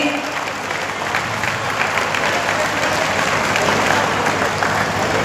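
A crowd at a school award ceremony breaks into steady, dense applause for the lamp lighting, a continuous wash of clapping that holds loud and even throughout, with faint voices mixed in.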